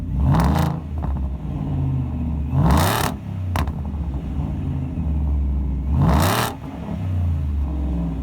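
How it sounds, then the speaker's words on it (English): A 755-horsepower 2018 Shelby F150 truck with a Borla performance exhaust and dual black tips rumbles loudly and steadily close by, with three sharp revs rising out of the deep idle. "Let's hear that exhaust right now."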